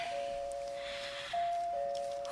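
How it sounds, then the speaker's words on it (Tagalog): Doorbell ringing at a condo door: a steady electronic tone holding for over a second, then a brief break and a second sustained chime, fairly clear against a quiet indoor background. "Mo-doorbell na ko."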